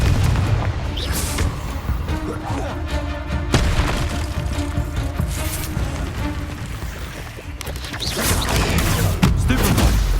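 Fiery Confringo spell blasts from Hogwarts Legacy combat, with dense booming impacts layered over continuous game music and effects throughout, loud and busy.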